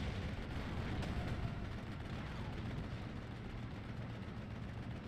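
Mortar rounds landing around a Panzer IV in the WWII strategy game Steel Division: Normandy 44, heard as a continuous dense rumble of distant blasts and battle noise at moderate level with no clear individual hits.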